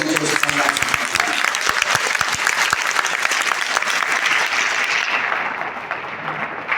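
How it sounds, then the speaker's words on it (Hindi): Loud, dense applause from a seminar audience, continuous clapping close by that thins out slightly toward the end. "एक जोरदार तालियां"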